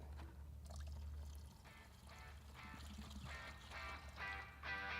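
Liquid crop fertilizer pours from a bottle, a faint close trickling splash in short repeated bursts over a low background hum, no talk.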